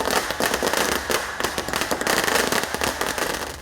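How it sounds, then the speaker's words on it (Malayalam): Firecrackers set off by students celebrating a student union election win at CUSAT, Kerala, burst in a dense, continuous crackling barrage of rapid overlapping pops that fills the whole stretch at close range. "തുടർന്ന് പടക്കം പൊട്ടിച്ച് വിദ്യാർത്ഥികൾ വിജയം ആഘോഷിച്ചു."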